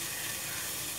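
Okra sizzling in hot oil as it goes into the pan to fry, a brief, faint, steady hiss.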